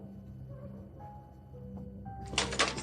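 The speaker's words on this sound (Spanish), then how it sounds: "De repente llamaron a la puerta." A pair of sharp knocks lands on the door of a country house late in the clip, standing out briefly over soft, sustained background music.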